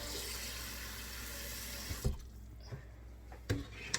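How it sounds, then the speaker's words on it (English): Kitchen sink tap running water into a pan, a steady rushing stream for about two seconds that then cuts off, leaving a few quiet clunks and knocks of the pan at the sink. "we're going to get our water turned on"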